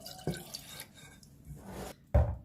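Orange blossom water poured from a glass into Moroccan chebakia dough mixture, heard as a couple of short, close splashing bursts separated by quiet moments.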